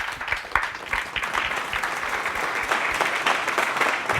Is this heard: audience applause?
yes